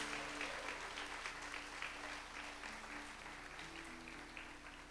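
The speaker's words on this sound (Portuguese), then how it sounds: "Você pode aplaudir a Jesus." Church congregation applauding during a Portuguese-language service, steady dense clapping heard faintly at a distance over a low hum and sustained organ-like tones.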